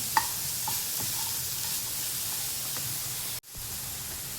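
Jaggery mixture roasting and being stirred in a pan for Konkani sweets, a steady soft sizzling hiss with occasional light scrapes of the spoon, briefly cut near the end.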